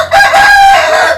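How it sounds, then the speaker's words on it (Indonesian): A rooster crows once, loud and close, a single sustained cock-a-doodle-doo with no other sounds around it. "ayam"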